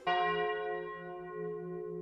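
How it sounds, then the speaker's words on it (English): A large church bell at a college, struck once, rings out loud and clear, then its resonant hum slowly fades over a couple of seconds with no other sounds. "the São Paulo do Monte College sounded the bells"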